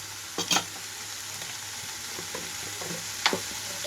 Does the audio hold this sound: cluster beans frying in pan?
yes